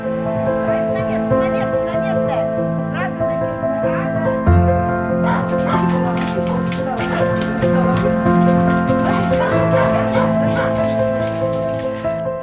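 Several dogs at a shelter for seriously ill dogs, yipping, barking and whimpering together in a dense, continuous chorus close by, with a person speaking over them.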